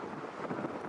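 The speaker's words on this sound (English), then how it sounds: "It is windy out here." Wind rushes and buffets against the microphone in a brief, steady, muffled roar with no voices.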